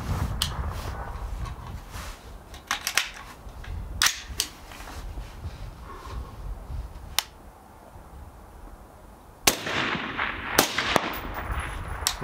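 An LMT MWS rifle fires sharp, isolated cracks at a long-range target, several shots spaced seconds apart, loud and close against faint outdoor background.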